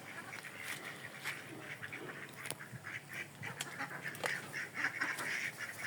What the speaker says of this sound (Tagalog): yung ating mga itik